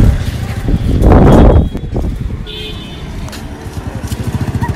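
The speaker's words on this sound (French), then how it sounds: "Oh, il y a des motos, des vaches sur le pont" Motorcycles and car horns in busy Indian street traffic on a bridge, with a loud engine surge passing close, then a brief high toot and steady rumbling traffic with faint voices.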